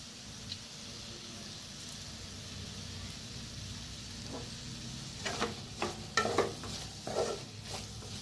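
Potato bhaji is mixed in a pan, with a steady soft sizzle under scattered scraping stirs that grow busier and louder toward the end. No one speaks.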